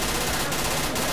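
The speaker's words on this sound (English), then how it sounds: "Shooting at him." Gunfire in Left 4 Dead 2, a dense, loud rapid burst filling the whole short moment with no pauses.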